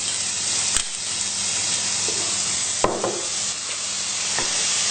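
An onion mixture with salt, black pepper and spices fries in a pan with a constant loud sizzle, broken by a few sharp clinks and scrapes of stirring.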